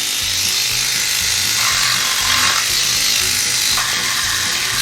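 A DSPIAE reciprocating sander cuts through paint, a loud, close, buzzing motor with rapid rhythmic rasping that holds steadily throughout, its scraping tone shifting slightly as pressure changes.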